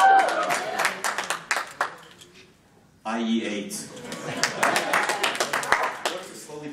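A conference keynote audience at MidCamp 2014, a Drupal event, claps in scattered bursts that thin out and fade, with a presenter's voice talking over the clapping.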